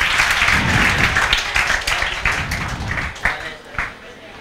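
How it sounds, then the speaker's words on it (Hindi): Loud, dense applause from a class audience during a JEE determinants lecture, a sustained burst of many hands clapping that gradually thins out, with voices talking over it. "जोरदार तालियां, बजाओ।"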